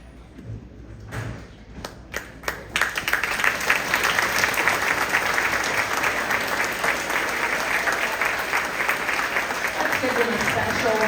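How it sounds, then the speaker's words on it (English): An audience at a fifth-grade elementary school awards day applauds the award recipients, starting with a few scattered claps that build into sustained, dense clapping. "Let's give them a special round of applause."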